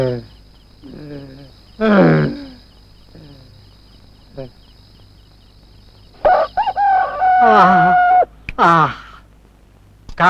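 Rooster crowing in a Tamil comedy film, a long drawn-out crow standing out loud and clear around other animal calls and voices, with spoken dialogue in the scene.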